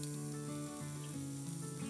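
Half an onion and a spoonful of garlic sizzle faintly in about half a teaspoon of oil, a soft continuous hiss beneath steady tonal background music.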